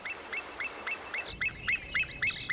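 A bird repeats a short, bright chirping call in a steady rhythm, faint and distant, over a quiet outdoor background with no voices.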